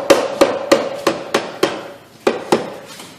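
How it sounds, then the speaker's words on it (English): A hammer whacks a two-stroke engine crankcase during disassembly: eight sharp metallic strikes in a steady rhythm about a third of a second apart, each ringing briefly, with one short pause midway, loud and close with no talking. "you take the hammer and you make sure to look for the thicker parts of the case to hit on"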